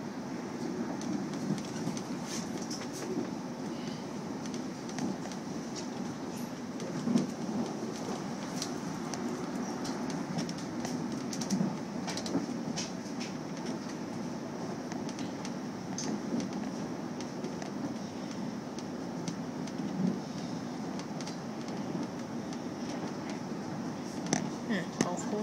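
A train rumbles steadily along the rails between Dapto and Kiama, a constant low roar with faint clicking and rattling, heard from inside a carriage.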